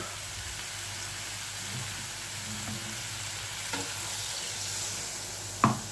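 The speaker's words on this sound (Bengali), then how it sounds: "চলো এরপর আমি একটু সামান্য জল দিয়ে আর একবার ঢেকে দেব" Mixed vegetables for a Bengali vegetarian dish sizzle steadily in a pan after a splash of water, a continuous soft hiss with a faint clink near the end.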